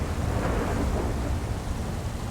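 Thunder rolls through a storm in Grand Theft Auto V, a loud continuous rumble with rain hiss filling the whole stretch and nobody speaking.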